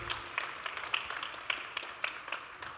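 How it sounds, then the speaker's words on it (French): An audience at a Propolys annual event applauds the final team, sustained moderate clapping with a loose beat of sharper claps standing out against the crowd. "Déjà, je veux que vous applaudissiez encore."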